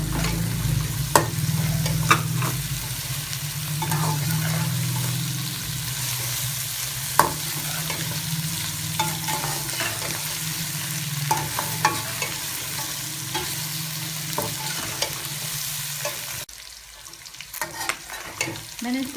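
Ginger garlic paste sizzles and fries in a pan for mutton karahi while a spoon stirs and scrapes now and then, a steady close frying hiss with occasional clinks, quieting near the end.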